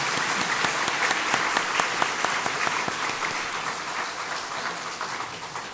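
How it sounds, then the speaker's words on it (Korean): A church congregation applauding together during a Korean service, a dense, sustained burst of many hands clapping that gradually thins toward the end, heard alone without voices. "우리 한번 크게 박수하겠습니다."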